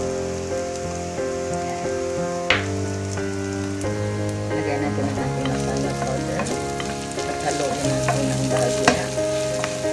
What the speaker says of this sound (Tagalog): Para lang ma-fry siya